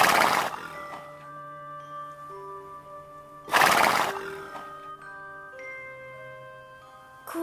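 In a Playmobil film, a sick mare close to foaling whinnies twice in loud, breathy bursts a few seconds apart, over soft sustained musical tones.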